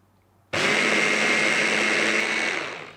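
A food-processor blender mixes a yogurt marinade for spiced chicken: after a half-second of quiet it starts abruptly and whirs loud and steady for about two seconds, then winds down.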